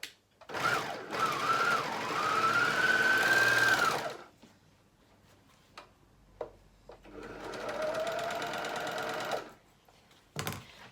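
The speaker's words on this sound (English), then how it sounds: "popping it on the top of the skirt, pinning it all the way around and overlocking it on" An overlocker sews elastic onto the top of a skirt, whirring in two long steady runs separated by a quiet pause with a few soft clicks, then a brief final burst.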